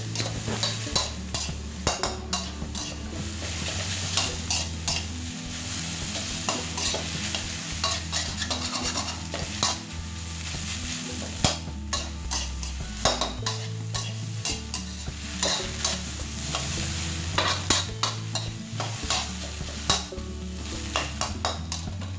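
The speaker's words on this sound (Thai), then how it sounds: "เสร็จแล้วก็ทำการผัดให้เข้ากันนะกับไข่นะครับ ผัดให้เข้ากันเลยนะครับ" Boiled bamboo shoots and egg being stir-fried in a hot pan, with steady sizzling and frequent scraping and clacking of a spatula against the metal. The sound is close and continuous, with no talking.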